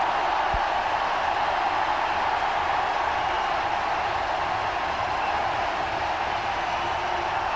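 A big crowd at a Test cricket match in Chennai, India against England, roars loud and sustained in a steady wash of cheering that never lets up.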